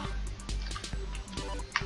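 Water flowing in a Minecraft waterfall, heard as soft bubbly trickling with scattered drip-like splashes over a low rumbling bed, fairly close and continuous.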